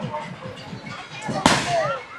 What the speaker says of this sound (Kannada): ಸಾಕ್ಬಿಡ ಮೇಲ್ಗಡೆ ನೋಡಿ ಫುಲ್ ಪಟಾಕಿ.